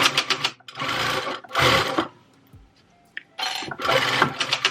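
Sewing machine stitching through a quilted boxy carry-all bag, three loud motor-driven runs of rapid stitching separated by quiet pauses, close up with no talking.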